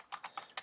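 A few quick keystrokes land on a computer keyboard while a web address is entered: four light, crisp clicks in a short burst, close and quiet, with no talk.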